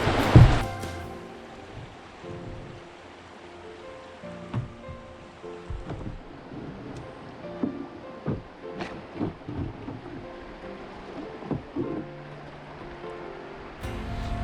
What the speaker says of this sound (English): you can just see it in some of the rapid sections like this one here.